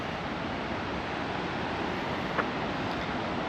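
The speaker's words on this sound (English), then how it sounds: "It's a pretty big river though." The broad river at Cumberland Falls, Kentucky rushes in a steady, even wash of water with no break, filling the whole clip at a moderate distance.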